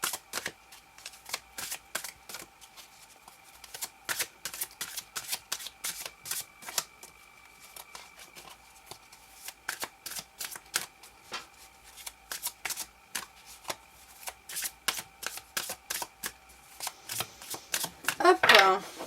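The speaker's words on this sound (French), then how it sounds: "Hop, je coupe avec la main gauche et je prends celle-ci." A deck of tarot cards being shuffled and cut, rapid dense riffling bursts repeating through the clip, with someone speaking softly underneath.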